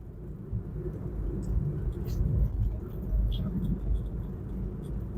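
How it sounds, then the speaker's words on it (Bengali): A car moves along a road, heard from inside as a low steady engine and road rumble with faint clicks, and no voices. "এখন আমি গাড়ি চালাই দিতেছি"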